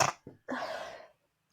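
A single close sneeze: a short sharp intake, a brief catch, then a loud breathy burst that fades quickly into silence.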